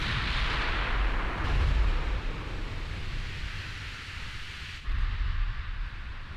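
Shells from naval gunfire strike in the warship battle game Ultimate Admiral Dreadnoughts, giving deep, muffled booms that swell twice over a constant rushing background noise.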